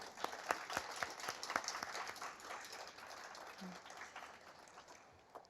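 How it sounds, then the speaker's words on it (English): An audience at an academic prize ceremony applauds, giving a dense patter of claps that holds steady and then slowly thins. It sounds moderately distant in a hall with some crowd murmur. "we can all applaud accordingly"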